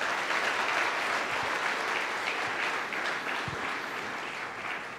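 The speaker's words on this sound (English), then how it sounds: "Can we give a round of applause to them?" An audience applauding at a LeadTalks event in Chennai, a continuous, fairly loud wash of clapping that holds steady for the full five seconds.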